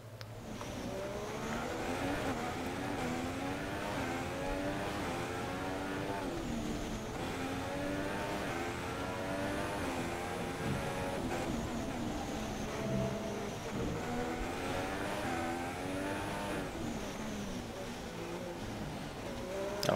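A Haas Formula 1 car on ultra soft tyres laps the Monaco street circuit in the racing game F1 2016. The engine whines continuously, rising and falling through gear changes as it accelerates and brakes through the corners.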